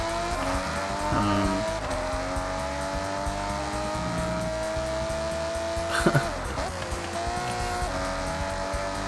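A Subaru Legacy rally car drives in Forza Horizon 6 with a loud, constant engine drone and tire squeals layered over it, plus a sharp scrape or skid partway through.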